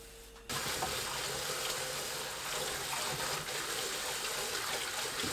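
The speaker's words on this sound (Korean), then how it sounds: "미나리가 잠길 만큼 물 받고 식초 1큰술 섞어주세요." Tap water gushing into a bowl to soak water dropwort for a Korean steamed egg dish. It starts abruptly and then runs as a steady, close, full splashing stream with no talking.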